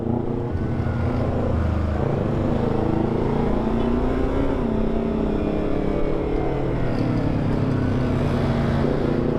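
A Yamaha R25 motorcycle being ridden sends out a continuous loud engine drone with a wavering pitch that rises and falls slightly, steady throughout with no talk over it.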